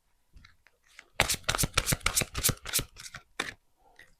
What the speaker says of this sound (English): Sometimes I shuffle so long that I have to cut it.